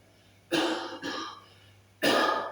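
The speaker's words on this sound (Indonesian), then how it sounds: "saya pun agak batuk-batuk dulu." Three dry coughs from one person, close by, in quick succession then a short pause before the last, each a rough burst over a low steady hum.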